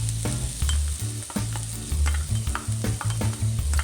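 Red onion sautéed in a hot wok for vegan sisig, with loud, close, rhythmic tossing and scraping of the spatula over a constant bright sizzle.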